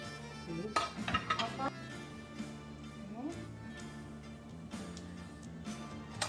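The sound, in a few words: serving baked lamb onto plates, dishes and cutlery clinking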